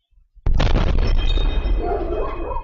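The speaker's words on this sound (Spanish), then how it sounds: "otras cámaras de casas aledañas al CESFAM captaron el destello de la explosión" A sudden loud explosion during a slot machine robbery, caught by security cameras, hits after a moment of near silence and leaves a long, rumbling roar with crackling debris that slowly fades.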